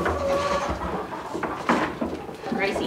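Goats on a homestead bleat loudly and repeatedly while being fed from a trash can lid, with close, wavering cries mixed with people talking nearby.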